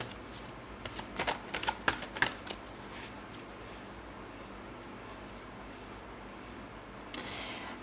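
Tarot cards are shuffled in a quick run of crisp riffling bursts near the start, then a quiet stretch follows and a brief final shuffle comes near the end, close and fairly soft.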